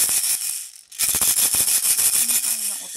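A BeatJack shaker sample plays as a dense, loud rattle of bright shaken grains, with a brief gap near the start before the steady shaking resumes, and no voices.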